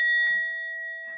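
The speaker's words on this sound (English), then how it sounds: "I like this bell." A single bell is struck once and rings with a clear, steady metallic tone that slowly fades, followed by a brief rustle at the end.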